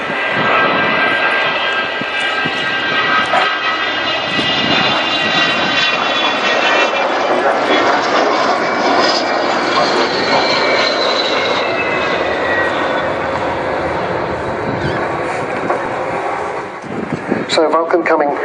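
An Avro Vulcan B2 bomber roars past at an air display, a loud sustained jet howl with a slowly shifting whine that stays strong for the whole span, while a commentator talks over it.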